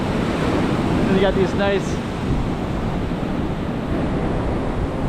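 Ocean waves break on the main beach at Phu Quoc, Vietnam, a loud, steady roar of surf with wind buffeting the microphone, and someone speaks briefly over it near the start.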